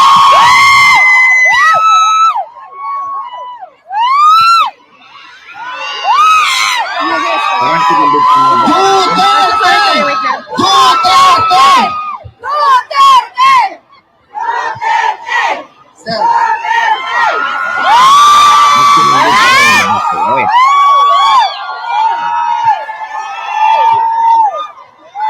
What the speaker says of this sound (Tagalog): Maraming mga OFW yung sumisigaw.